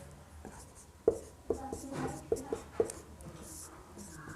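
Chalk or marker strokes on a board during a Class 12 maths lecture, a handful of short scratchy taps and scrapes spaced irregularly, with faint room noise and a little background speech.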